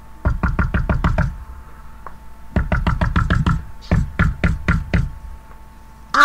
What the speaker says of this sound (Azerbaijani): Əvvəlcə böyük quzunun evini tapıb qapını döyür.